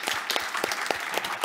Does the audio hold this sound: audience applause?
yes